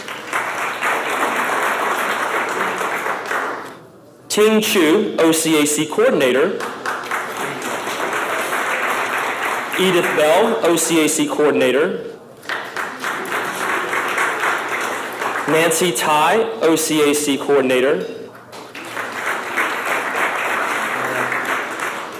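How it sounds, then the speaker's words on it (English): A reception audience at a sister-city anniversary event applauds steadily as advisors and coordinators are introduced one by one. Broad, continuous clapping fills the room, with an announcer's voice reading names over it at intervals. "Come on, I need a big round of applause here."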